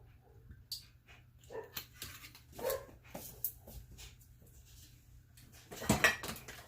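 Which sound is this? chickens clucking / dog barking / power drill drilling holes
dog barking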